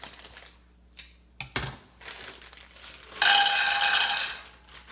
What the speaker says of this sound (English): So let's open up our cranberries.